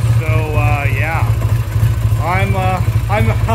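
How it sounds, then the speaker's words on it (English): A Triumph Bonneville T140V motorcycle engine idles with a steady low throb, running continuously under someone talking nearby. "And obviously the bike is running too. It's even idling."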